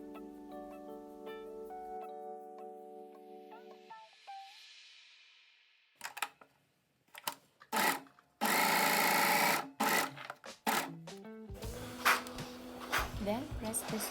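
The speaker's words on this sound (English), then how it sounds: "pin them, sew, and overlock the inseam" Sewing machine and overlocker stitching the inseam of wrap shorts, heard as intermittent bursts of rapid mechanical whirring, loud and close, with pauses and a soft tonal passage at the start.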